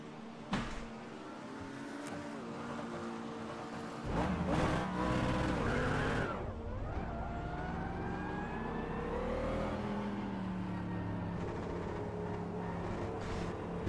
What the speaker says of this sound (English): You love the sound of the AMG.